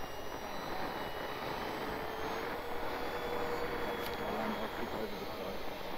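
Avios Bushmule RC model airplane held at half throttle on its second flight, a steady faint buzzing drone from the distant aircraft with a brief louder swell, with people talking nearby.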